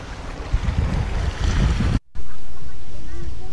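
Loud wind on Borawan Island beach in Quezon buffeting the microphone in rough gusts, briefly cutting out before roaring back even stronger.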